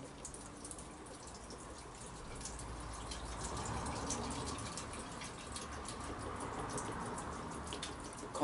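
Water runs steadily into a tank, a continuous trickling and splashing flow with faint drips, fairly quiet and building slightly over time.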